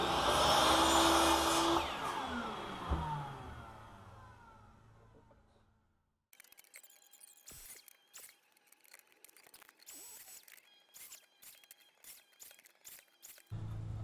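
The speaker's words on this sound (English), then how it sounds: "it turns on the vacuum" A vacuum cleaner roars loudly, then its whine winds down and stops; afterward, faint clicks and small handling noises follow.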